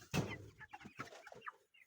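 Broiler chickens in a movable poultry house clucking softly, a run of short, low, irregular clucks close by on a hot day.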